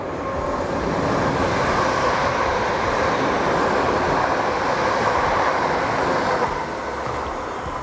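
A train runs through a small station in England without stopping, a loud, steady roar and rumble of wheels and carriages that holds for several seconds, then eases slightly toward the end.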